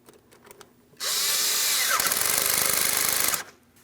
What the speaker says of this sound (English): while I hold that towards the throttle body, I'm going to tighten my 7mm headed clamp